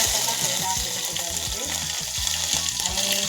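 Spices tempering in hot oil for an appe chutney crackle and sizzle steadily throughout, with a dense, even frying hiss and faint low knocks underneath.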